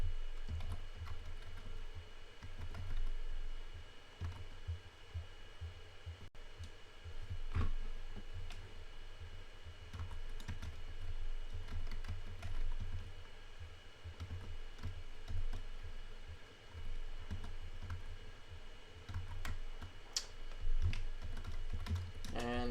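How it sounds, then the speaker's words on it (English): Steady typing on a computer keyboard during a programming session, close clicky keystrokes in irregular runs with brief pauses, over a low background hum. "I'm just going to finish typing first"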